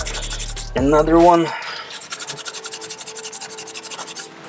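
Spray paint is rubbed off a car wheel rim in quick, even back-and-forth strokes, a close, rhythmic scrubbing that runs steadily after a brief spoken remark at the start.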